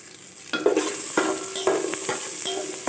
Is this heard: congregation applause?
no